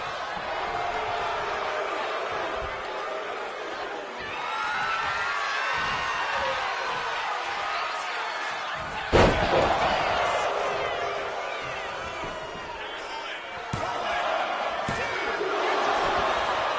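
Wrestling crowd at an event in Colorado Springs chanting steadily for the whole stretch, a loud sustained roar of voices with a sharp slam-like hit midway and a commentator talking over it.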